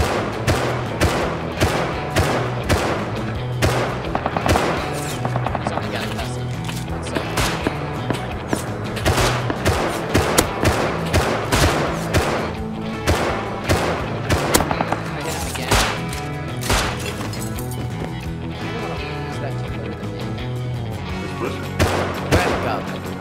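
Rapid gunfire in the survival game Rust, dense bursts and single sharp shots cracking one after another across the whole stretch, loud and close, with a voice talking faintly underneath at moments.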